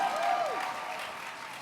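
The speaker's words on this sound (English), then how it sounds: "Big round of applause" A convention audience at Comic Con applauds a stage panel: a dense, steady wash of clapping with a brief swooping tone near the start.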